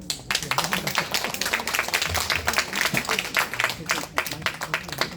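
An audience claps after a health-care lecture at a Seoul education office, with steady dense applause that is loud and close throughout and a voice speaking over it.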